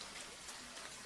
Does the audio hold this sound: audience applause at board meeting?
no